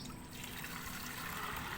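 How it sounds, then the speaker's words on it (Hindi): Water pours steadily into a kadhai, a soft continuous splashing trickle, close and quiet. "इसमें पानी का डाल दें। ये देखिए,"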